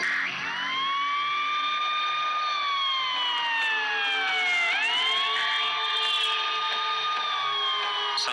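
Wailing ambulance siren in 1962 Los Angeles, its pitch sweeping up and down in long continuous glides, loud and steady with no voices over it.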